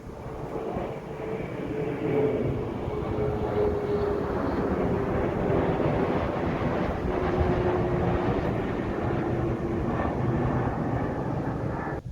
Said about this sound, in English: you'll see quite a few planes flying over